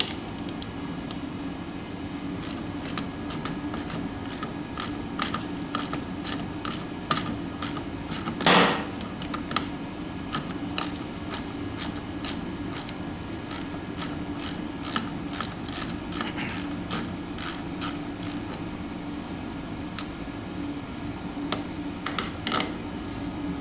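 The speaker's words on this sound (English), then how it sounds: "This one you need the socket and 11mm wrench. Yep, 11. Let's go ahead and lefty loosey." A socket wrench ratchets rapidly to loosen 11mm bolts on Toro Power Clear snowblower paddles, giving a steady series of close, crisp metallic clicks over a constant background hum.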